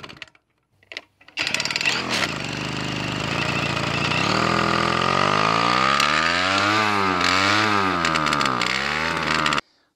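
A two-stroke diesel moped engine with variable compression sputters to life after a few brief bursts, then runs loud and steady with a rough, buzzing idle and revs rising and falling before cutting off.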